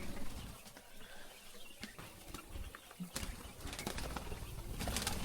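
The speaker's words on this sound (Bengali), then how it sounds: "অনেকদিন পরে আমার কোয়েল পাখির খামারে ঢুকলাম" Quails on a farm of about 200 birds, heard as scattered wing flutters and soft rustling bird noises over a steady, noisy background throughout.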